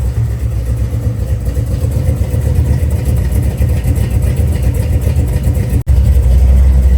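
A supercharged small-block 406 V8 in a Fox Body car runs loud and close with a deep, steady rumble, then a sharp break near the end before it carries on even heavier.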